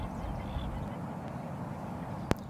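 Ducks quack faintly and at a distance over a soft, steady ambient hiss at the Coorong, a coastal lagoon habitat for migratory water birds.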